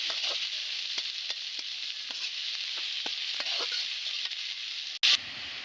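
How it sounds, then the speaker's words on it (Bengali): Chopped onions fry steadily in hot oil in a home kitchen, a loud continuous sizzle with faint stirring clicks, then a sharp clatter near the end. "পেঁয়াজগুলো আমি লাল লাল করে ভেজে নেব।"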